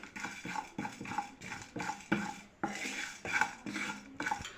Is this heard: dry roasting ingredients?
yes